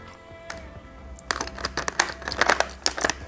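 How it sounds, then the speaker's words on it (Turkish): Cardboard box of a Pinoo robotics kit being opened by hand, a run of close crinkling, tearing and rustling bursts after a quiet start, no speech. "şöyle Pino kutusunu açıyorum"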